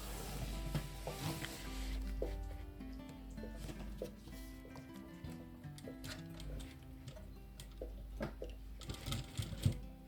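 A home sewing machine stitches a pocket onto a crocodile-textured tote bag, its fast quiet ticking running steadily with short stops and restarts, heard close and alone.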